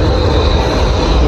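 A train pulls into a Zagreb station as a steady, loud rumble of wheels and carriages fills the whole stretch, close by and without letup.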